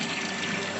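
Water runs steadily through an orifice meter pipe in a fluid mechanics lab, a continuous close rushing flow with no break and no talk.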